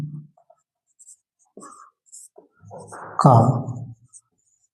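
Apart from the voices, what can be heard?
writing on paper with a pen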